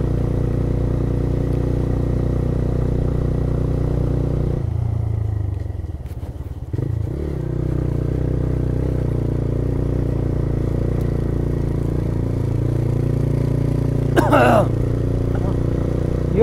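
A motorcycle on a ride toward Hetauda, Nepal, gives a steady low engine drone that drops away briefly midway and then returns, with a sharp high scrape or squeal near the end and speech over the noise.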